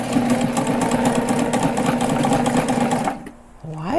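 A sewing machine stitches a backpack in a loud, rapid, steady run for about three seconds, then stops abruptly, leaving a brief quiet hum.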